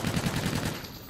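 A sniper rifle shot and rapid gunfire in the video game Call of Duty Infinite Warfare, loud and close, a dense burst of reports in a fast rhythm filling the whole moment.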